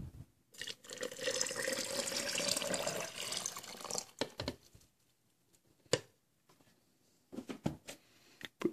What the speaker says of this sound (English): go ahead and pour the water in.